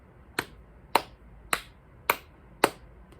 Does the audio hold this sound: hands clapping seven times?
yes